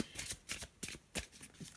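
Tarot cards from the Faulkner deck are handled and set down on a surface, giving several soft, quiet papery slaps and shuffling rustles in a loose, irregular rhythm, close by with no talking.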